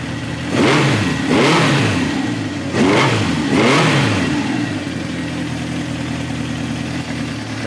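A 1971 Honda CB750-K1 motorcycle, an original survivor bike that is hard starting and running poorly, revs up in two pairs of quick throttle blips, then settles back to an uneven, rumbling idle, close and loud.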